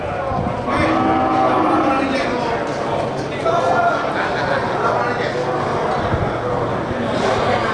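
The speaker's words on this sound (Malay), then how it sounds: "Di sel bagian timur juga terlihat ini sangat banyak sapi besar ya, sapi siap potong" Cattle moo repeatedly at a livestock market selling big bulls ready for slaughter, several drawn-out lowing calls rising over a dense crowd murmur and people talking nearby, steady and busy throughout.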